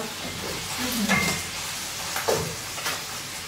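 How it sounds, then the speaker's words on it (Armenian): Mushrooms fry in a pan with a steady sizzle and hiss, broken by a few soft stirring scrapes. "Սա դեռ տապակվում է և թողնենք 5 րոպե տապակվի"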